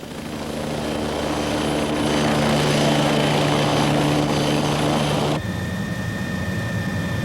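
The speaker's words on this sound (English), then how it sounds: "the helicopter of the Canadian Coast Guards drops off one of the keepers starting duty" A Canadian Coast Guard helicopter at a lighthouse makes a loud, steady rotor and engine roar close by that holds for several seconds and then shifts in tone near the end.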